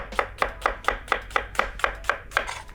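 A kitchen knife chops through an onion on a cutting board in about ten steady, evenly spaced strokes. Each one is a crisp, close knock, and there is no voice.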